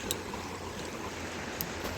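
Steady broadband rush of a creek flowing over rocks, continuous and close, with faint bird chirps on top and no talking.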